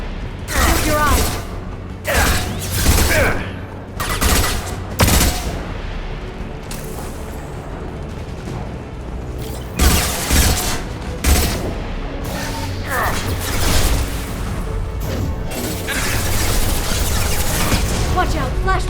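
Flashbang grenades go off in the Mass Effect 2 video game amid a dense, loud battle, with repeated sharp bursts and booms over constant mechanical clatter and combat noise, and a voice talking through the action.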